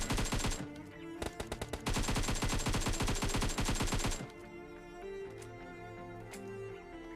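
PUBG Mobile gunfire: rapid automatic bursts, loud and dense, with a brief pause in the middle, then fading to quieter in-game ambience and music.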